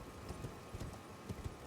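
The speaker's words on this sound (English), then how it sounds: "Let's hop back on the horse" Horse hooves clip-clopping at a steady trot while riding in the video game Elden Ring, a regular rhythm of muffled thuds, fairly close and moderately loud with no voices.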